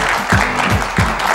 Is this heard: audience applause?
yes